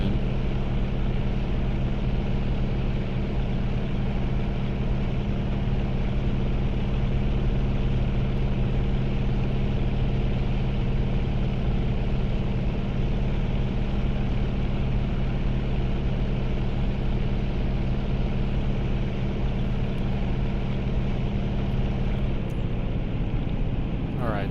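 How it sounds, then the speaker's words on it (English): Steady, loud drone of a virtual light aircraft's engine in Microsoft Flight Simulator 2024, flown in VR, holding constant for most of the clip before the tone drops abruptly near the end as the engine powers down. "all of a sudden I just heard my engine power down again"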